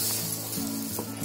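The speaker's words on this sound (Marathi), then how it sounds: "आपला इथे तवा पण तापलाय. आता पण तापला असेल ना तर आपण गॅस बारीक करायचा आणि त्याच्यामध्ये आता ही आपली पोळी टाकायची." Flattened semolina dough sizzles on a hot iron griddle over a low gas flame, a continuous close-up hiss and crackle.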